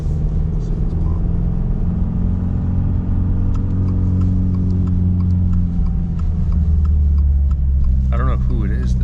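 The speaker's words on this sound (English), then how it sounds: "Oh, there's a WRX right there." A Subaru WRX engine at a snowy WRX meet gives a steady, heavy low rumble that holds throughout, with a slight swell late on.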